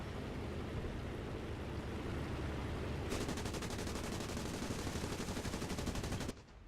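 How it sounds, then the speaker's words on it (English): Guns of the gunner aboard a Hudson Mk V aircraft in War Thunder fire at ground targets, a rapid rattling burst over a constant engine drone, then cutting off abruptly. "Nigel can help us clear up some ground targets from his guns"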